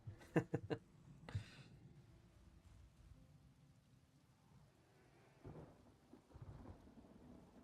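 Steady rain falls in the Stormhaven region of Elder Scrolls Online, with a few sharp thunder cracks early on and softer rumbles later, all faint and distant.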